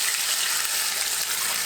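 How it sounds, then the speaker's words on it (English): Two cups of water pour into a pan holding crisp bacon and its rendered fat, a loud continuous hissing rush with no pause. "So I'm going to add 2 cups of water"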